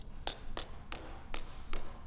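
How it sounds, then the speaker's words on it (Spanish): A hammer striking a scrap piece of metal to beat it into rough shape, five sharp ringing blows spaced about every third of a second, close and clear with no talk. "cogí un trozo de metal que tenía por ahí y lo martillé hasta darle la forma básica"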